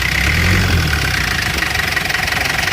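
A diesel car engine running loud and close, rising in a rev with a steady knocking clatter underneath, alone without talk.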